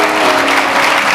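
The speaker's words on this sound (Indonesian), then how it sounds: "Anda tepuk tangan" A short burst of dense audience clapping, loud and close, steady for about a second.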